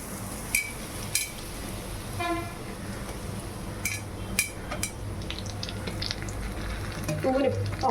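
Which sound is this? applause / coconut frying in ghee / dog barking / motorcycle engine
coconut frying in ghee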